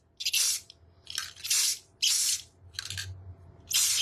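Black spray paint fogs onto an epoxy tumbler in six short hissing bursts, each about a third to half a second long, with brief gaps between them, close and fairly loud.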